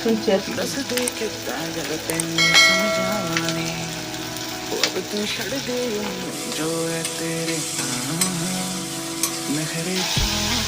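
Mutton kheema with green chillies sizzles steadily in a pan under a voice, with occasional clinks and scrapes of stirring close by.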